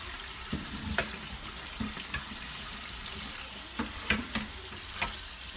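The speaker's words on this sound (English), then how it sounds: "Rinsing some of that salt off." Salted pickle slices are rinsed under running tap water in a sink, a steady wash broken by several sharp clattering knocks and splashes as the slices are handled.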